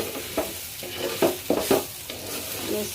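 White pulao stirred in a cooking pot: a spoon scrapes through the rice in several separate strokes over a steady low sizzle, close and moderately loud, with no talking.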